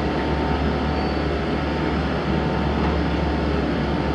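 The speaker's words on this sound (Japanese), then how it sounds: "まもなく湾岸線の電車が通過いたします。" A train rumbles past at close range through Sotetsu Hoshikawa Station in Japan, a steady, loud roar of wheels and carriages with no pauses, filling the whole stretch.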